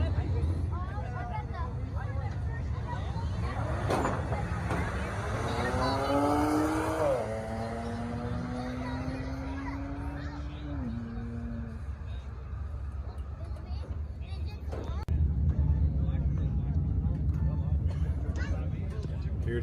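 Two cars, among Mustangs, Camaros, Corvettes and a twin-turbo BMW, drag race side by side with rising engine revs and gear shifts roaring over a noisy crowd, loud and sustained, with people talking throughout.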